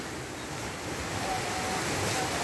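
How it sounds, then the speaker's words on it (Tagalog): Strong sea waves surge against the shore at Lumbal, a continuous loud wash of surf that builds slightly toward the end, mixed with wind hiss. "Malakas ang alon eh,"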